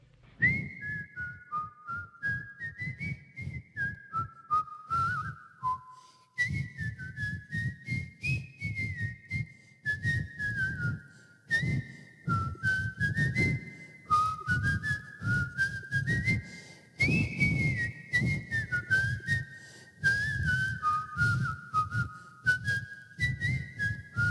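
Person whistling a melodic tune in clear, sustained phrases with short pauses, close and alone over a low steady background rumble.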